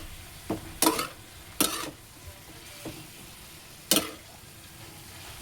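A utensil scrapes and knocks against a cooking pan in a few sharp, separate strokes over a faint background hiss, close and quiet, with no one talking.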